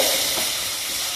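Thick masala of spices sizzles and fries in hot oil in a pan while being stirred, a steady close crackle with faint scraping, no voices, for a curry of boiled elephant foot yam.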